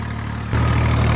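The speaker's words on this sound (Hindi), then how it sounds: "अभी 3 बज गए हैं और अपन रेगुलरली ट्रैक्टर चला रहे हैं" A tractor engine running with a rotavator in a farm field drones in a steady, low, close rumble that steps up slightly louder midway.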